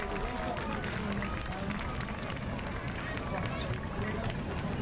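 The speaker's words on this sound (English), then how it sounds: "So give yourselves a round of applause" An audience at a 2019 school champions' recognition event claps in a dense, continuous patter of many hands, mixed with crowd murmur and voices.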